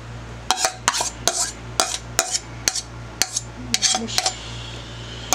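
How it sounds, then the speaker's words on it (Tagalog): Brown beans, potato and onion being mixed for pani puri, with a spoon or utensil repeatedly clinking and scraping against a bowl in sharp, irregular knocks, close and fairly loud, over a steady low hum. "Pag mimix na yung brown beans at saka potato and onion."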